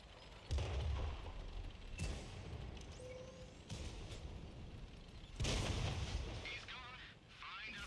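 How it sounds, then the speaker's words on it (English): Artillery shells boom in the World of Tanks console game, several heavy blasts arriving at irregular intervals over a quiet rumbling background. "Leave me alone, artillery."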